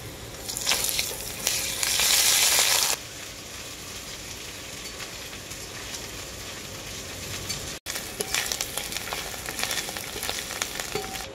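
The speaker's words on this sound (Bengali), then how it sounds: "আদাটাকে আলুর সাথে আমি খুব ভালো করে ভেজে নিয়েছি" Ginger paste frying with potatoes in a pan, a constant crackling sizzle that flares loud for a couple of seconds early on, then settles into a steady hiss with stirring scrapes.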